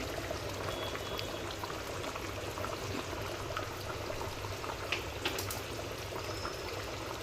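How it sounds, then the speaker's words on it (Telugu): A pot of fish curry (chepala pulusu) simmers, making a faint, steady bubbling hiss with occasional small pops, continuous and without speech. "చేపల పులుసు అయితే ఉడుకుతుంది ఇలాగ మంచిగా కుత్తు కుత్తలాడుతూ ఉడకాలి"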